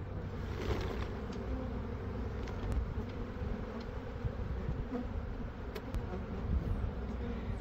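Dense swarm of honey bees buzzing steadily as they are shaken from comb into a box during a suitless bee rescue, a close, continuous hum with a few sharp clicks.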